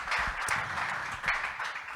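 A conference audience applauds at an opening session on real estate and building going digital, a steady, even wash of many hands clapping that stays fairly faint and distant throughout, with no voices over it.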